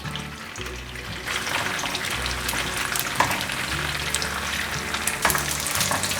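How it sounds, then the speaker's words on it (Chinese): Pressed tofu pan-frying in hot oil, a steady loud sizzle and crackle with scraping stir strokes and low clatter running throughout, close up. "趁油还很热，赶快先来煎香豆干。"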